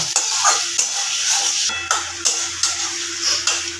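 Goat liver stir-fried in a pan, a loud close sizzle with regular rhythmic spatula scrapes and knocks against the metal roughly every half second.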